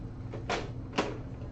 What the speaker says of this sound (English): And then you close the door